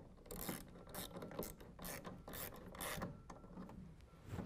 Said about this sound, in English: Then we can go ahead and tighten this one down.